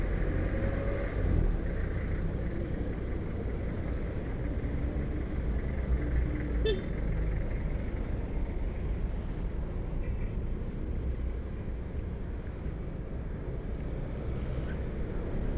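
Rush hour road traffic rumbles continuously around a rider on a Yamaha Mio Gravis motorbike, dominated by low engine and wind noise, with one brief distant horn-like blip midway.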